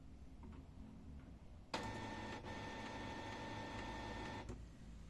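A Canon Pixma printer switching on: a sudden mechanical start followed by a steady whirring, tonal hum of its motors running for a few seconds, then a click as the noise drops back.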